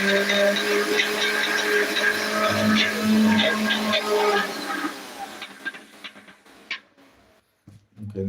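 Mixer grinder grinding masala for a seer fish head curry: a loud, steady whirring roar for about five seconds that then cuts out, followed by a few clatters and brief quiet.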